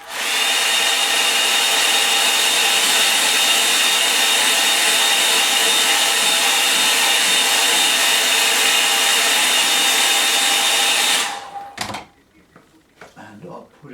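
A hair dryer blows steadily on a watercolour-style landscape painting of a Norfolk summer scene, a loud continuous whoosh and motor whine for about eleven seconds before it switches off, followed by quiet handling noises.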